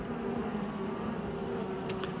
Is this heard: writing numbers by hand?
no